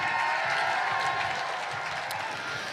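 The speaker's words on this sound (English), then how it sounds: "Why don't we clap for them?" A crowd at a Seattle No Kings rally applauds in a steady, sustained wash of clapping that stays loud and even throughout.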